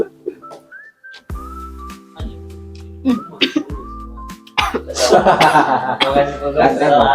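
A few short coughs and throat-clearing sounds break out near the microphone, mixed with whistling notes and a chuckle.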